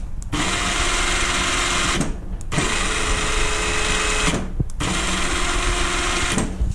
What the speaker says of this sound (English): I'm going to test our wireless winch.